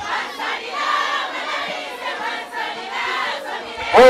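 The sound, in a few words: ululation at a wedding celebration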